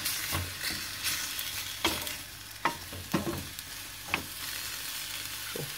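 Pasta sauce sizzles and fries in a small child-sized pan, with a steady hiss broken by several sharp scraping clacks of a utensil stirring against the pan, close and fairly loud.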